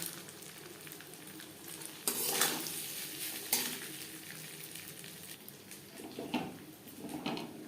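Vegetables and rice being stirred in a hot pan for vegetable fried rice, with repeated scraping strokes of a spatula against the pan over a steady low sizzle; several louder stirs come in bursts, and no one talks.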